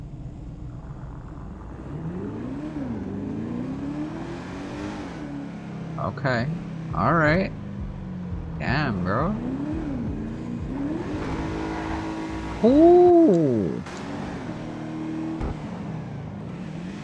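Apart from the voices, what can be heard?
video game supercharged V8 car engine whine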